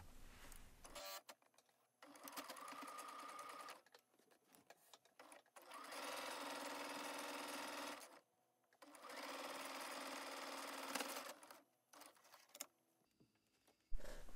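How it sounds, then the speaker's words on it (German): A sewing machine stitching drawstring channels onto fabric, running in several steady whirring bursts of a few seconds each, separated by short pauses and handling noises, close and fairly quiet. "Die Tunnelzüge werden jetzt füßchenbreit auf dem Stoff festgenäht."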